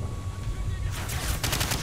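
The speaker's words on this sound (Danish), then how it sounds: "Slap nu af med at skyde, Price, du er jo fuldstændig vild" Rapid gunfire rattles through Call of Duty 4 gameplay, a dense burst of shots over a constant low rumble of game noise.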